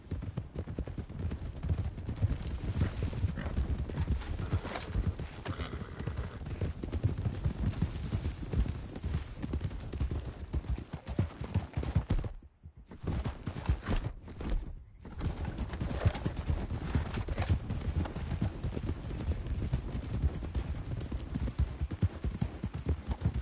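Steady clip-clop of horse hooves on hard ground in the video game Red Dead Redemption 2, loud and continuous, with a brief gap partway through before the trotting resumes.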